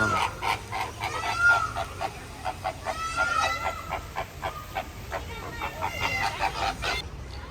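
Chickens at a zoo in Asia cluck rapidly and crow in dense, overlapping calls that carry on without pause, loud and close, with the birds behaving aggressively.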